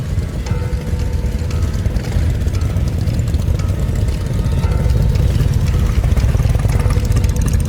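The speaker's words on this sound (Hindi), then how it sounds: "मोटरसाइकिल की आवाज आई।" Engine drone in a village setting, a steady loud rumbling hum that holds constant throughout without talk, fitting a motorcycle approaching.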